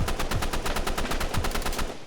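Rapid automatic gunfire from Roblox Rivals cracks in a tight, even burst of about fifteen close, loud shots, with no voice over it.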